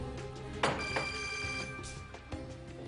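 A telephone rings faintly in a repeating electronic ring pattern, heard distantly with some room noise in between.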